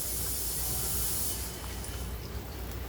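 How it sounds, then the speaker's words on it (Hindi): Green chillies fry in hot oil with a loud broad hissing sizzle that eases slightly partway through, then carries on steadily close by. "अब इसमें हम ये मिर्ची डालेंगे और इसको अच्छे से गोल्डन ब्राउन होने तक अच्छे से इसको फ्राई कर लेंगे।"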